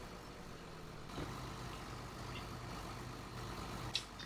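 Tractor engine idling in the farming video game Farming Simulator 17, a steady low rumble held at an even level with a brief click near the end, with no talk over it.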